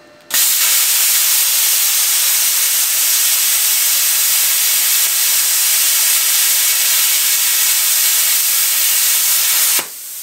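A Yeswelder Cut-55DS plasma cutter on a 220-volt line cuts through metal with a loud, steady, close hiss that runs for about ten seconds before stopping abruptly.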